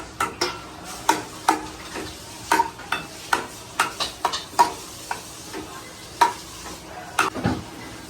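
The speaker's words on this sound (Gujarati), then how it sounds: "રાઈ ને જીરું નાખીને થોડું તતડાઈશું" Mustard seeds and cumin crackle in hot oil for a sambar tempering, giving irregular sharp pops and clicks scattered over a faint sizzle, close and fairly clear, with no talking.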